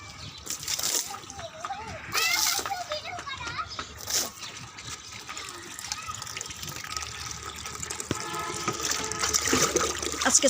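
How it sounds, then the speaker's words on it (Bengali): Water poured onto a sun-heated rooftop floor to cool it, splashing and sloshing in bursts, with children's voices and adult talk mixed throughout. "এই কারণে ফ্লোরে পানি দিয়ে রাখতেছি যাতে ঘরটা একটু ঠান্ডা হয়।"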